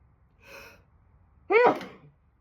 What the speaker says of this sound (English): those are legit. I'm getting sick. Allergy sneezes.